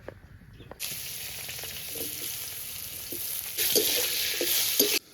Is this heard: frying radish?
yes